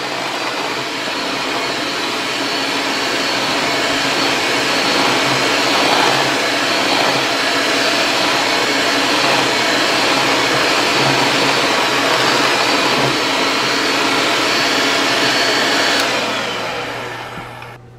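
An electric mixer runs steadily on low in a bowl of cake batter for a Depression-era wind cake, a constant loud whirring hum that holds for about sixteen seconds and then winds down.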